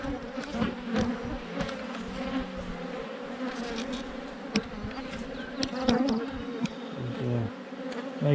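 Honeybees buzz at an open hive during an inspection after a swarm. Their dense, steady hum stays close, with scattered clicks and knocks from handling the frames.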